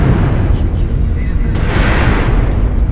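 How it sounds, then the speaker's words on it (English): Missile explosions in MechWarrior Online, a continuous loud barrage of rumbling booms and bursts blending into a dense roar with no clear gaps, close and heavy. "God, those missiles, dude."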